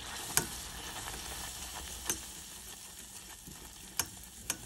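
Butter and flour cook together in a saucepan over low heat while being stirred vigorously: a steady scraping sizzle runs throughout, punctuated by a few sharp utensil clinks against the pan.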